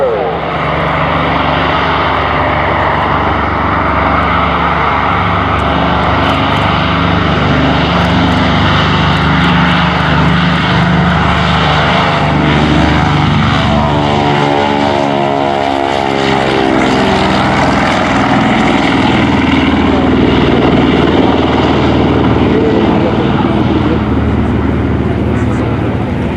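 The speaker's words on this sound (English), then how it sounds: "on the run right now, C-46, Curtis Commando on the takeoff roll" Curtiss C-46 Commando airplane with twin radial propeller engines roaring steadily on its takeoff roll at a World War II airshow, loud and continuous with a sweeping pitch change midway as it passes.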